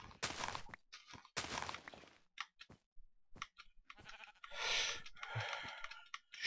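Sheep bleating in snowy Minecraft terrain, a few short bleats among soft footsteps and thuds, moderately close with quiet gaps between bursts.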